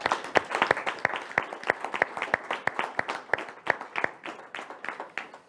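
An audience applauds at a city medal ceremony, a dense round of many hands clapping at a brisk irregular rhythm, fairly close and loud, with no voices over it.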